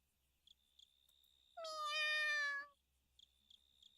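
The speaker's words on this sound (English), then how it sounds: "we hear a tiny meow from inside" A tiny cat meows once from inside a box in a video game, a clear, drawn-out, high-pitched cry of about a second, with faint soft chimes before and after and no talk.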